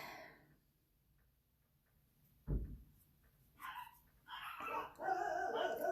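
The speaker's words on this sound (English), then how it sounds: "My dogs are going crazy." Indoor pet dogs bark at neighbors arriving outside, a sharp nearby bark followed by a few fainter yips and barks over a quiet room.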